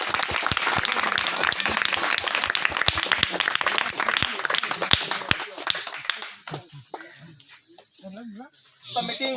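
Villagers at a flood disaster awareness meeting and mock drill clap in welcome, a dense burst of applause from a crowd that fades out after about six seconds, leaving quieter murmuring and a voice.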